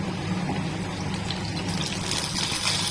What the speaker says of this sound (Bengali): এদিকে ভাতটা হয়ে গেছে, আমি ফ্যানটা ঝাড়িয়ে নেব।